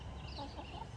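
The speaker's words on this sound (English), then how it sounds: "Oh, I got a chicken behind me." A chicken at a tea house on a New Zealand trail clucks softly nearby, a few quick faint clucks over a quiet outdoor background.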